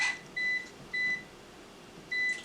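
An air fryer's control panel giving three short, clean electronic beeps at even spacing while the temperature is set, over a faint quiet room hum.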